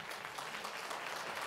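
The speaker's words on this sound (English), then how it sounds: "A final round of applause for Mr." Conference audience at a health event in Dubai clapping steadily, a dense and even patter of many hands heard from a moderate distance.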